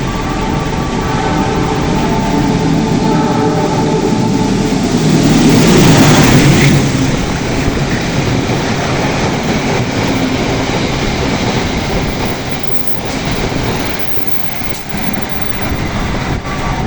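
The Sancaka passenger train rushes past at high speed, a loud, broad roar of wheels and wind that swells to a peak and then continues as a dense rattling rumble, close by, with no voices.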